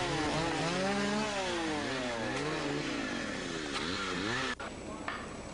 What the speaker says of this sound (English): Heads up when working near chainsaws.